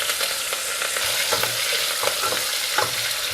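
Onions and curry leaves fry in hot oil with cloves and cardamom while a spoon stirs the pan, giving a steady close sizzle punctuated by scraping stir strokes.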